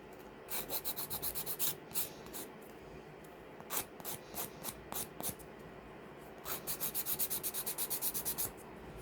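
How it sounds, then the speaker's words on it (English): Sharp edges of glittery epoxy resin dominoes are sanded by hand, bursts of quick rhythmic rasping strokes separated by short pauses, close and fairly quiet. "Just going to sand the sharp edges."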